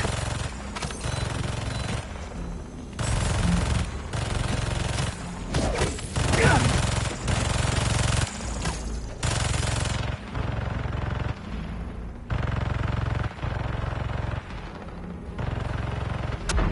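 Turrets in Marvel's Spider-Man 2 fire in repeated, steady bursts of rapid mechanical gunfire, separated by short pauses, with crashes and combat noise mixed in.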